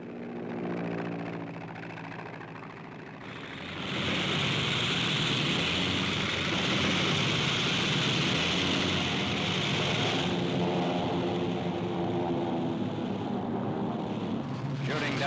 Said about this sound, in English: Elements of the Fast Carrier Task Force send aircraft aloft for strikes in support of American invasion forces.